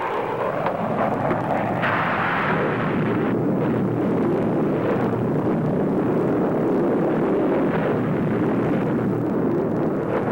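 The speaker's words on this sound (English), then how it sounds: "Missile approaching." An approaching missile effect from a 1954 science-fiction TV series, a deep continuous roaring rumble with swelling bursts that grows and fills the scene, without talk.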